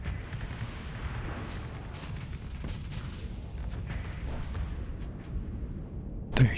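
Ships firing weapons on a low-tech station in the space game Starsector: a low rumbling barrage of booms and impacts, fairly quiet and steady, with a sharper burst near the end.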